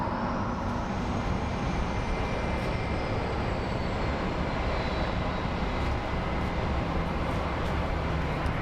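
An American Airlines airliner at Phoenix Sky Harbor airport gives a steady, broad engine roar that holds loud throughout, with a faint rising whine above it and no talk.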